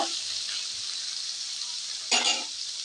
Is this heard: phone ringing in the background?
no